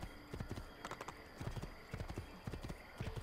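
Horse hooves clip-clop in a steady trotting rhythm during a horse race in the Assassin's Creed video game, close and fairly quiet with soft background ambience.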